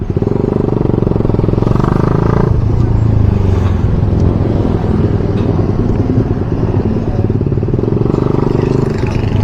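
A motorcycle engine drones loudly and continuously while riding, heard through a Gearelec C2 helmet intercom mic, harsh and distorted with constant rumble and wind rattle and a rise in revs partway through.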